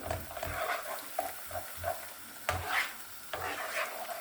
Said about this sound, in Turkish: Salçamı da kavuruyorum.